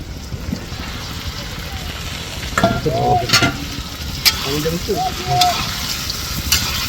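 Fish fries in a pan at an outdoor village cookout, a continuous hiss and crackle close by, with brief louder spits and scrapes and faint voices in the background.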